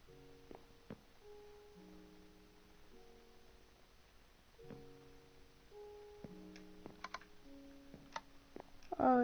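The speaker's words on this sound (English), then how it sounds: "it's a pressure plate. That's why it's making the clicking noise." Clicking from a Minecraft pressure plate in a mountain cobblestone house: several short, faint ticks scattered through quiet game music, a louder burst of clicks near the end.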